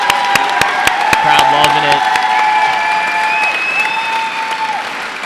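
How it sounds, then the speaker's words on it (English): A crowd at a fight event claps and cheers loudly after the judges' decision, a busy wall of applause with sharp hand claps and a few whistles riding on top, while someone speaks briefly early on. "Crowd loving it."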